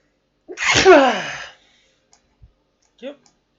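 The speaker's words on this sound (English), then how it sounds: "so I'm going to sneeze." A single loud, close sneeze bursts out with a sharp intake and explosive release lasting about a second, followed by a few faint breaths and small mouth noises in otherwise quiet surroundings.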